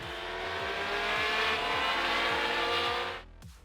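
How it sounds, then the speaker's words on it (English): Formula 1 race cars scream around the street circuit in Las Vegas, a loud sustained high-revving engine whine that holds steady for about three seconds and then cuts off sharply. "But now the fastest cars on the planet are back in the city."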